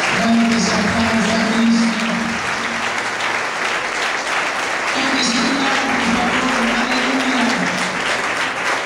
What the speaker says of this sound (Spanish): Podamos todos dar un aplauso grande al Señor.